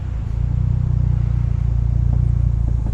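Turbocharged Honda Civic engine roaring loud and steady under hard acceleration in first gear, a dense continuous rumble with no voices over it.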